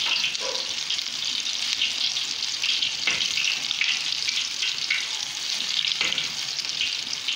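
Steady oil sizzling and crackling of zucchini fritters frying in a pan, continuous and close, with a few soft clinks now and then and no talking.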